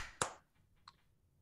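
A few people clap together after a count of three in a quiet room, giving one sharp, slightly ragged burst of hands followed by a softer second clap, close by and with no voices.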